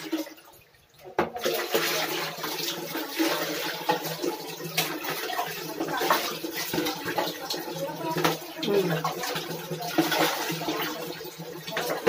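Water is poured steadily for rinsing during washing beside a toilet, a continuous splashing rush close by with no talk over it.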